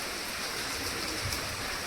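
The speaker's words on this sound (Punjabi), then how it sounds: "ਮੀਂਹ ਆ ਗਿਆ ਜੀ ਫੁੱਲ ਤੇਜ਼" Heavy rain pours down in a steady, dense hiss with no voices.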